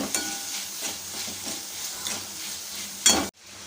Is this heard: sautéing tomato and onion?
yes